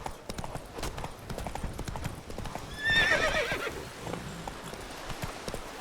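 Hooves clip-clop in a quick, steady rhythm as a horse gallops in The Witcher 3: Blood and Wine, with a clear whinny partway through over faint game background sound.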